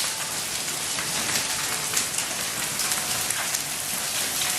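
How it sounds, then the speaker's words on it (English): Hail pelts the ground and yard during a storm in Kaneohe, Hawaii, a dense continuous hiss of many small impacts with scattered sharper hits, fairly close. "we are getting a serious hailstorm"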